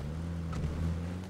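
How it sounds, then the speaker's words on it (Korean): Car engine in the PUBG battle royale game, a steady low droning hum running throughout at moderate level, with no talking over it. "차 소리"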